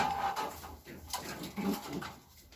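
Pigeons coo softly inside an indoor pigeon room, a few low, faint murmuring calls amid quiet rustling and background hum.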